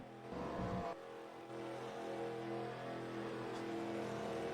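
Stock cars in a NASCAR racing video game head to pit road at Charlotte, a steady droning engine hum with tonal whine and a brief rev near the start, fairly faint throughout.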